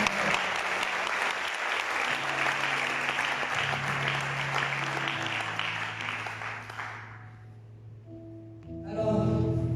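A church congregation bursts into sustained applause, dense clapping that fills most of the stretch, fades near the end, then a voice and organ-like tones follow.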